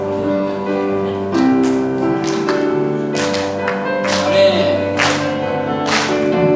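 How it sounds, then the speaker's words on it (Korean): A church congregation claps along in time during Korean worship singing, steady rhythmic hand claps layered over sustained music and voices, fairly loud and close throughout. "괜찮으신 분들은 서서 박수 치면서 찬양 드릴게요."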